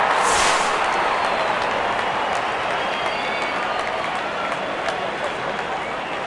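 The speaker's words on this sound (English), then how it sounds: "The crowd is enjoying every bit of this action." A stadium crowd in the mobile game Real Cricket roars and cheers in a broad, continuous wash that swells briefly at the start, then holds steady at a moderate distance.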